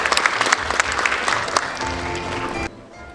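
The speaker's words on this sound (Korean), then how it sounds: "네, 박수 한번 보내주시죠." Audience applause at a university entrance ceremony, a dense burst of many hands clapping together that carries on steadily and then cuts off abruptly near the end, leaving a faint room hush.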